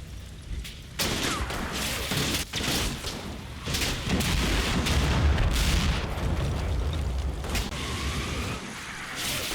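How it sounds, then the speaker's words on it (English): Mortar shells land in a World War II Normandy battle in the game Combat Mission Battle for Normandy, heavy rumbling impacts and crackling debris rolling on continuously at moderate distance. "the mortars continue to trickle down onto the objective"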